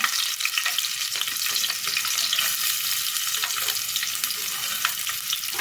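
Green chilli and chopped onion frying in hot oil for a ridge gourd vegetable dish, giving a steady, close, continuous sizzle with faint stirring and no talking.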